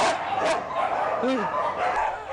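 A fierce dog at an animal shelter lets out a short bark amid noisy kennel surroundings. The bark is brief and partly masked, and a voice talks over much of the sound.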